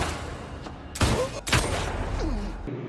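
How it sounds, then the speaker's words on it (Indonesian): Gunshots in a crime film, a couple of loud sharp bangs close together, with film sound and faint voices underneath. "si Red menembak rekan si Tony dan dirinya sendiri"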